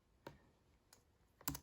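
The backspace key on a computer keyboard is pressed in three quiet, separate clicks, with a short pause between each in an otherwise silent room.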